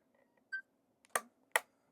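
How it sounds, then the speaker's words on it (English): A Hasselblad X2D II medium-format camera fitted with a 90mm lens fires its shutter twice, two sharp, loud mechanical clicks about half a second apart, preceded by a short electronic beep in an otherwise quiet room. "That is one loud shutter."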